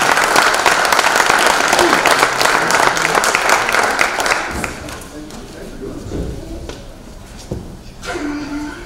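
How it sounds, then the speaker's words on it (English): A crowd at a small-town political forum applauds the city secretary, a loud, dense burst of clapping that fades after a few seconds into scattered claps as a voice begins talking. "Round of applause for our city secretary."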